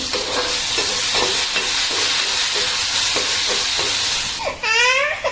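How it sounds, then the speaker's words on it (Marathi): Tomatoes and chopped ginger sizzle steadily while sautéing in a hot pan, with rhythmic stirring scrapes every half second or so and a sharp squeak of the utensil near the end. "टोमॅटो परतता परतता आपण जे आलं चिरून घेतलं होतं तेही ह्याच्यात घालून घेऊया"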